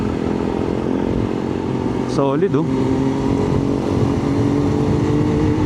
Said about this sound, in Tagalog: Etong gamit natin na motor is Kawasaki ZH2